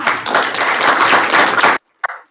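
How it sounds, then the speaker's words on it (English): Brief burst of clapping and applause from a board of education meeting audience honoring a teacher, dense and even for under two seconds, then stopping abruptly with a single faint tap after. "let's give a big round of applause for Kristen Bowman, English teacher at West Caldwell"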